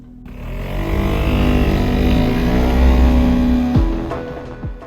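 An Italjet Dragster 125 scooter with a liquid-cooled Piaggio Aprilia engine accelerates hard, its engine note climbing steadily and loudly, then dropping off sharply as the throttle closes, with no talking.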